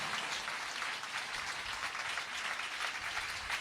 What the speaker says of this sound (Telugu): ఆశించిన వారందరూ ఒకసారి చప్పట్లు కొట్టి ప్రభునామాన్ని ఘనపరచండి